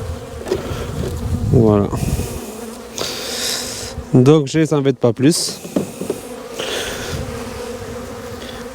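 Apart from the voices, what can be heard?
honey bees buzzing around a beehive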